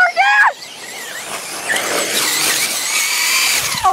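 A Traxxas Rustler VXL RC car's motor whines and squeals at high pitch on a road, revving steadily after a brief shout at the start.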